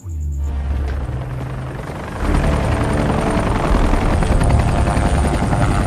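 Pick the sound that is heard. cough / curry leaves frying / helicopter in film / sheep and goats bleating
helicopter in film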